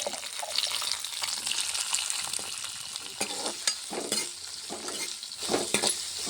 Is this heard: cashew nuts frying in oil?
yes